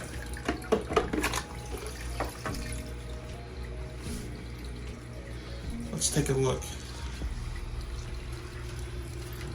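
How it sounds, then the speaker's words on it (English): Water pouring and trickling into the refugium of a reef aquarium, with an all-in-one refugium setup. The flow is a steady close wash, with splashy bursts near the start and around the middle, and a person speaks briefly over it. "There you see the water going through there into the Refugium."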